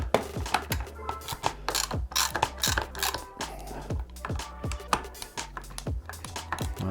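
Hand guard mount on a Suzuki V-Strom motorcycle being tightened with a ratchet: rapid, regular, close pawl clicks in short bursts, with no voices.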